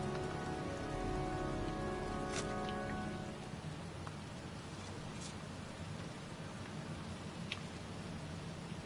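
Steady pouring rain in a cemetery in the video game Heavy Rain, a dense even hiss of heavy drops that is loud and close throughout, with faint thunder-like rumbles underneath and no voices.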